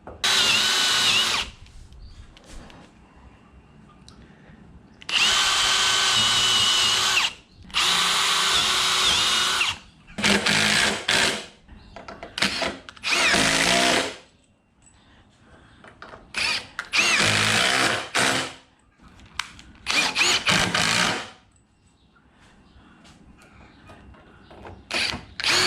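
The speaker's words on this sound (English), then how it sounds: "I'm going to grab some construction screws and put a construction screw into each one of these" Power drill driving construction screws into wooden firewood rack pieces, several loud bursts of a few seconds each separated by short pauses, close up with no talking.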